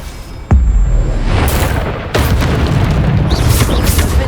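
A Bombarda spell blast in Hogwarts Legacy: a sudden heavy boom that bursts in sharply, then a second impact and a rumbling, crackling tail, loud and close.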